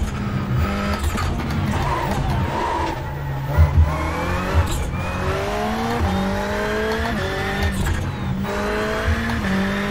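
A Subaru rally car racing up a hill-climb course in the iRacing simulator, its engine revving loud and continuous, pitch climbing through gear changes with brief tire squeals, no voices heard.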